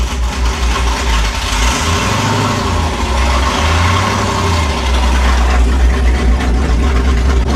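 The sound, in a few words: modified car engine idling with choppy idle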